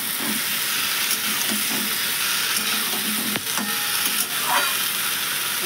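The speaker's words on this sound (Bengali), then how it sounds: "মশলাটা দিয়ে ভালো করে একটু কষে নেবো" Ground spice paste fries in a pan with a constant, fairly loud sizzle, broken by occasional spoon scrapes and clinks against the pan, close and without voices.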